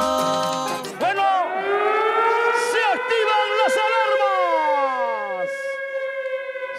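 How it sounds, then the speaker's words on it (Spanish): Sirens wail loudly at a bull riding championship, several rising and falling tones sweeping and overlapping for several seconds alone before easing off. "¡Se activan las sirenas!"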